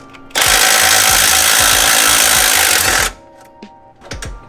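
A power tool, likely an impact wrench, runs in one loud, steady burst of about three seconds as it removes the bottom bolt of the sway bar end link on an NA Mazda Miata. Quiet clinks follow during a coilover install.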